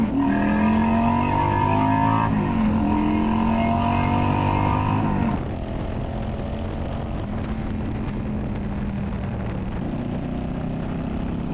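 A Yamaha V-Star motorcycle engine revs up with a rising, loud throttle pull, then drops back to a steady, rumbling idle, close by with no talk.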